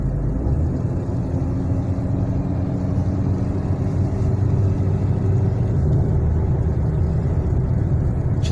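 A Lada Kalina 2 engine running hot under load on a slight uphill on fresh asphalt. There is a steady loud rumble with road and engine drone throughout, and any hydraulic lifter knock stays buried in the noise.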